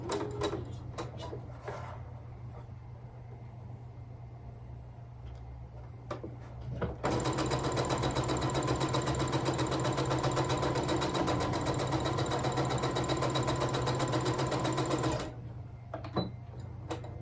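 A sewing machine stitching quilt seams runs in a steady, loud mechanical whir for several seconds, framed by quieter handling clicks and taps before and after.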